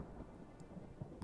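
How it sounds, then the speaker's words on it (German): In-game thunderstorm ambience in Pokemon Revolution Online, a low rumbling wash of thunder and rain noise with a few faint clicks, steady and moderate, with no talk. "Gewittert gerade. Ach, hier, in-game."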